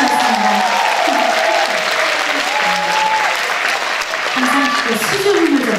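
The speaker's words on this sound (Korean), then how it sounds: "멋있으시면 박수 한번 주세요" A concert audience claps loudly and continuously, with a voice speaking over the dense, steady applause.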